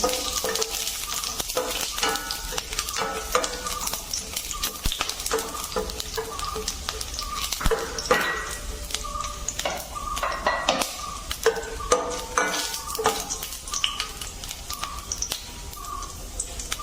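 Whole fennel, cinnamon, cloves, cardamom and star anise frying in a pan, a steady close sizzle with frequent stirring clinks and scrapes of a utensil against the pan.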